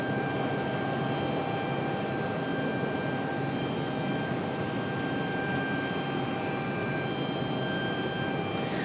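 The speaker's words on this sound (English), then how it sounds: "American 2375 off to Miami, an A320-100." An American Airlines Airbus A320 departing Raleigh-Durham for Miami gives a loud, continuous jet engine roar with steady tonal whine, unbroken throughout.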